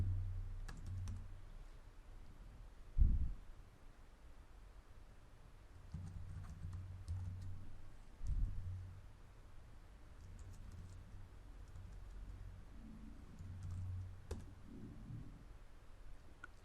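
Keys on a computer keyboard being typed in short, quiet bursts of light clicks, close by and fairly faint against a low background hum, with no talking.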